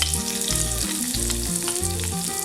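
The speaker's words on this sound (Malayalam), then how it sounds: "ഇതൊന്ന് എണ്ണയിൽ നന്നായിട്ടൊന്ന് വഴറ്റിയെടുക്കണം" Sliced ginger sizzles in hot coconut oil in a pan with green chillies and curry leaves, a steady close frying hiss running under louder background music.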